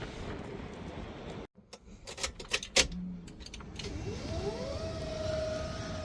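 An electric-over-hydraulic power steering pump kicks on with a rising whine that settles into a steady hum, preceded by clicks and rubbing handling noises.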